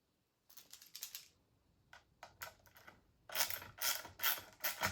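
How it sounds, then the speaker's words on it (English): Screws are backed out of a Ruiwind 42-inch ceiling fan motor, giving quick clicking ratchet-like bursts that start and stop, quiet at first and growing louder and denser toward the end. "So you wanna take 2 screws out that are about the distance of these holes apart."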